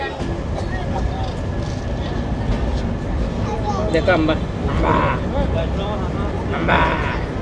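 A passenger train, the Saikat Express running from Chattogram to Cox's Bazar, pulls out after a station stop, giving a continuous low rumble and rattle while people talk over it.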